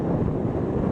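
Steady wind buffeting the microphone, a constant low rumbling roar with no pauses or other sounds.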